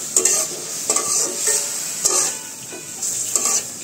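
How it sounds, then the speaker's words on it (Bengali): Bottle gourd sizzles in oil in a pan in a village kitchen, with regular scraping strokes of a spatula stirring every second or so, close and continuous with no talk. "এই যে এখানে লাউটা আমাদের ভাজা ভাজা হয়ে গেছে"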